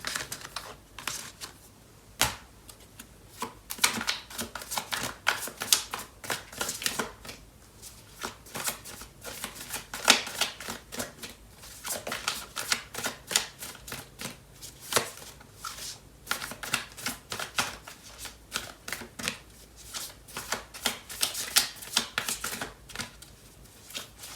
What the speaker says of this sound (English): I'm going to take out some cards from the tarot for this reading